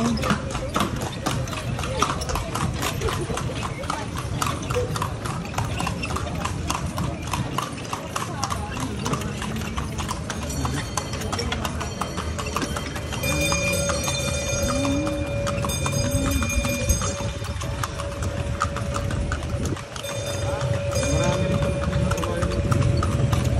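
Horse hooves clip-clop steadily on a street in Vigan City, close and rhythmic, with occasional engine noise and people talking nearby throughout.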